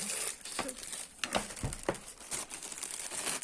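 A hair dryer being pulled out of a thin plastic bag, giving close, quiet bursts of crinkling and rustling plastic in uneven handling.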